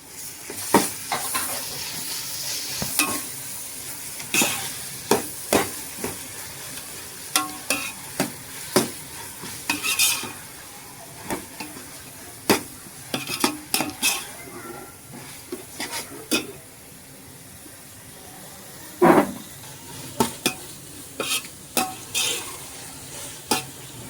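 Ginger-garlic paste and mutton biryani ingredients sizzle steadily in a pot while a utensil stirs and scrapes in frequent sharp clinks, close up, with little talk.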